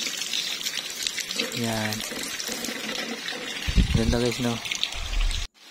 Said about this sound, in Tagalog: Ito yung Second Falls guys.